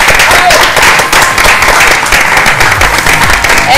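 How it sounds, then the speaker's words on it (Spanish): A studio audience breaking into loud, sustained applause for a departing colleague, dense close clapping filling the room with a few voices mixed in. "Quiero pedir un aplauso de todo el estudio para Pati Jinson."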